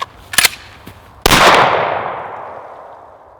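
An HK USP Expert 9mm handgun fired in quick succession gives a pair of sharp cracks followed by a louder report whose echo decays slowly over several seconds, alone without speech.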